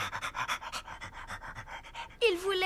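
A dog pants close up in a steady run of quick, breathy huffs, then a voice briefly speaks over the end.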